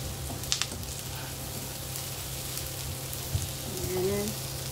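Leftover fried grilled chicken for sisig with eggplant, sizzling faintly in a pan as it is stirred, a steady soft crackle with a couple of sharp utensil taps close by.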